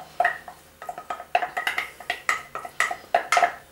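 Utensil scraping and clinking against a bowl while lolly cake ingredients are mixed, a quick irregular run of bright knocks and scrapes held close and fairly clear, with no talking.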